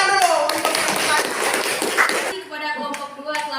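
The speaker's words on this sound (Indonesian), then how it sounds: "Tepuk tangan dulu." Students in a classroom clap their hands together in a busy burst for about two seconds, with voices mixed in. A few separate taps and claps follow as the room settles.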